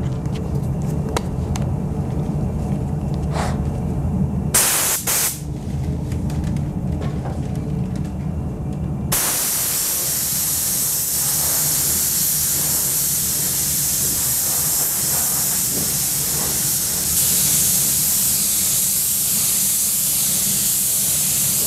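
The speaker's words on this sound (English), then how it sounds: "we're going to spray it once till it's tacky, then whack it again" Spray gun laying a tacky coat of paint on a 1968 California Special Mustang during restoration, with a steady close hiss that grows denser and more continuous partway through amid workshop noise.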